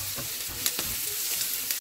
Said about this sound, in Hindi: अब इस ऑयल में कटे हुए प्याज डालकर गोल्डन ब्राउन होने तक पकाएं